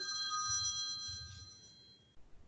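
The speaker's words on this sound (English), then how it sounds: "I'll let that stop ringing." A telephone rings with a steady electronic tone that cuts off after about two seconds, fairly quiet, with low background murmur.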